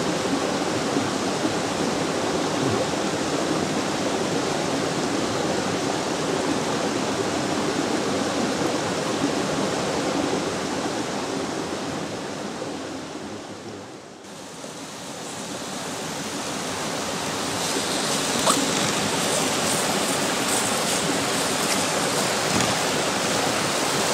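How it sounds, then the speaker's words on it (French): A mountain torrent rushes loudly and continuously close by, a dense unbroken roar of water that dips briefly midway before returning at full strength. "C'est vraiment un régal d'écouter le bruit du torrent."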